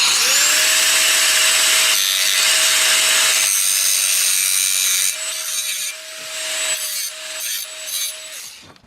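Cut-off disc grinder spinning up with a high whine and biting into a weld tack on steel pipe, a harsh continuous grinding close by, easing off into several short intermittent touches before winding down.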